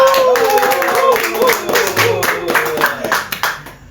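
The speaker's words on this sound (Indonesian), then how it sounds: "Sama-sama kita sambut dengan tepuk tangan." A small group on a podcast set claps to welcome a guest, close and fairly loud, with a voice talking over it. The claps thin into scattered sharp hits near the end.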